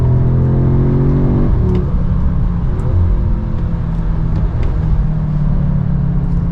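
An Audi S3 sedan accelerates hard on a wet, greasy road, its engine pulling loudly through the gears with rising revs and a shift, a close, continuous roar under tyre rumble.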